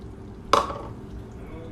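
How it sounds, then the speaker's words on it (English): A cup of water splashes into a pot of sugar, cherries, cinnamon and nutmeg, a single sudden close pour that quickly fades into a quiet background. "So we're gonna add a cup of water."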